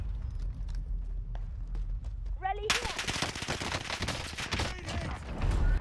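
Rapid automatic gunfire erupts in a battle royale video game, a dense burst of close shots rattling on for several seconds after a brief lull.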